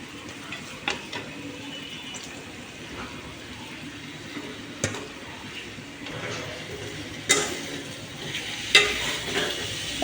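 Chicken pieces being stirred and fried with turmeric, chili and garam masala in a home kitchen, a steady low sizzle broken by a few sharp scraping clacks of the spoon against the pan.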